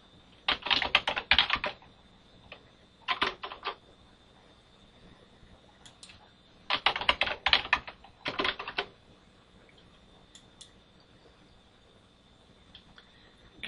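Keys clatter on a computer keyboard as a username and password are entered, several quick bursts of typing separated by pauses, close and fairly clear with no voices.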